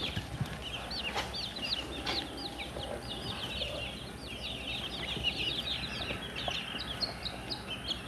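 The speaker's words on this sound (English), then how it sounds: "And yesterday we got a few more baby chicks." A chorus of high, rapid peeping from many small chicks about 4 or 5 days old in a brooder, continuous and fairly close, over a low background hum.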